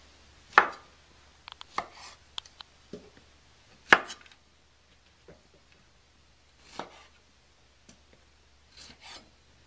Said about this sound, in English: we've chopped about 15 strawberries